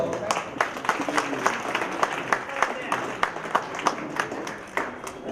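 Audience at a school batch reunion claps together in a brief round of applause, a dense patter of hand claps going on throughout, fairly close, with a few voices mixed in.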